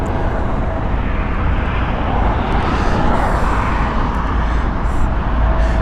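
Engines of a British Airways Airbus A320neo departing Heathrow for Larnaca, a steady broadband roar that holds at a constant loud level throughout, with no voices.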